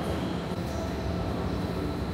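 A subway train on the Washington D.C. metro rumbles steadily and loudly throughout, with a dense low roar of wheels and carriage noise and no clear voices.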